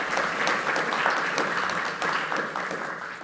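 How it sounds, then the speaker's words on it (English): Audience at a law school lecture hall applauding a doctor, steady dense clapping from many hands at moderate loudness throughout, with scattered sharper individual claps standing out. "Please give her a round of support, of applause."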